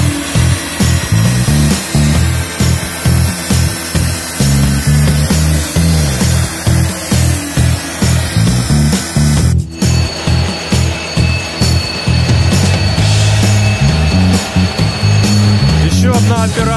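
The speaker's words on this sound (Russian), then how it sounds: "Магнитную сверлилку будем лепить вот сюда." Loud, steady mechanical whine of a magnetic drill biting into a steel coupling on a smoke exhauster rotor, pulsing rhythmically, with a brief cut partway through before the grinding resumes.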